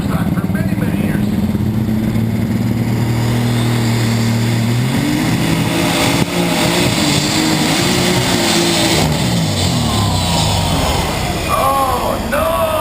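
A diesel super stock pulling tractor roars continuously at full throttle during a pull, the engine note climbing in pitch, loud and close over crowd and announcer noise.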